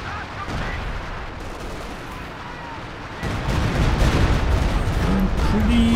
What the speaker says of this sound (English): Stuka coming in.